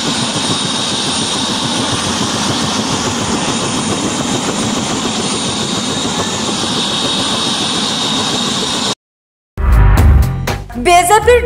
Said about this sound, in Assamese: বদৰুদ্দিন আজমলে যিখন হেলিকপ্টাৰেৰে নিৰ্বাচনী প্ৰচাৰ চলাইছে সেইখন